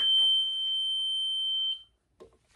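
A timing tester on a Morris G-5 magneto on a 1984 Harley-Davidson Shovelhead gives a steady high-pitched electronic beep for over a second and a half, then cuts off, leaving quiet with a faint brief noise.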